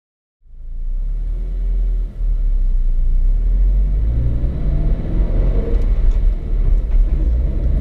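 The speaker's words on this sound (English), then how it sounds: "it's still a lot of fun to drive a manual transmission car" Manual-transmission 2019 Toyota 86 driving on the road, its engine starting up into a steady deep rumble that swells as the car accelerates, loud and close from inside the cabin.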